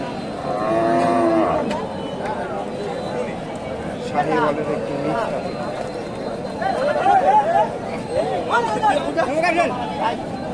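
Sahiwal and native bulls moo repeatedly at close range over a busy background of people chattering at a crowded cattle market in Bogura, Bangladesh.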